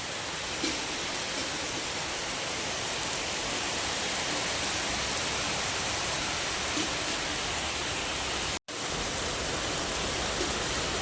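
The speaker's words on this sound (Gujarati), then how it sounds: "વરસાદ ચાલુ થઈ ગયો છે" Steady rain pours down in a village, a dense, even hiss that fills the whole stretch without letting up, broken only by one very brief dropout near the end.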